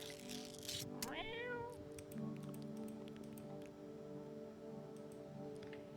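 A cat meows in the video game I'm Not a Human: one clear rising-falling meow, close and fairly quiet, over a steady low ambient hum with faint ticks.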